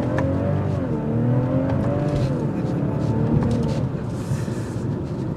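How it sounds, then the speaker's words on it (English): A 2023 BMW 540i's exhaust drones and rises in pitch as it revs, with a person talking over it. "You get the exhaust note that comes out of it"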